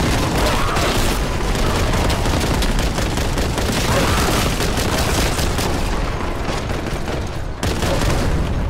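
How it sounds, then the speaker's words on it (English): Continuous booming explosions and rapid gunfire from the Warhammer 40K Boltgun video game, loud and dense throughout with no pauses, a near-constant barrage of blasts. "Have some explosion!"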